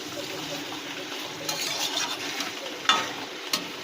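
Meat fries in a pan over low gas as it is stirred, with a close crackling sizzle and a few sharp scraping clicks of the spoon against the pan.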